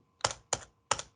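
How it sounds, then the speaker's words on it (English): Three distinct keystrokes on a computer keyboard, crisp close taps spaced unevenly over about a second, with no talking. "But as soon as I start typing"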